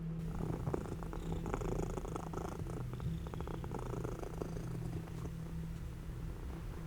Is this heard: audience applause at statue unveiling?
no